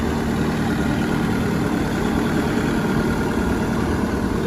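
A New Holland C332 skid steer engine idles steadily, loud and close, a constant rumbling drone with no change in pitch.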